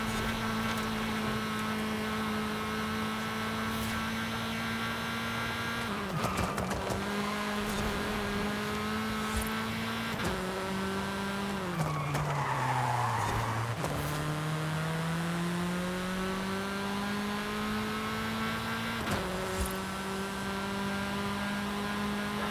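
A tiny car is driven in the racing game Forza Horizon 5, its engine droning steadily, with pitch dips and rises as it shifts, plus a few brief tire skids and bumps.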